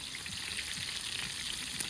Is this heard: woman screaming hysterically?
no